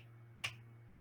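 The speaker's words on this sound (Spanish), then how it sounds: "el chasquido que hacemos al tronar los dedos" A single crisp finger snap cracks out near the middle, alone over a low steady hum, with no talking.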